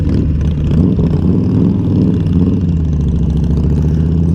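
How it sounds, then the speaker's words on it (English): Motorcycle engine stuck at a high idle, apparently from a computer fault with idle detection, a loud, steady, low rumbling drone held evenly throughout with no talking. "Alright, so right now it'll high idle"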